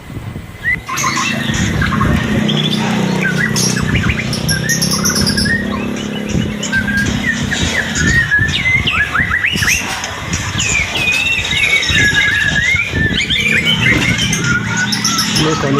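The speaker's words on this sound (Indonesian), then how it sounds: "Ini kondisi burung lagi di track mas ya" A caged murai batu, the white-rumped shama songbird, sings in a busy bird kiosk, rapid varied whistled phrases and chirps repeating throughout over a dense background of other birds and shop noise.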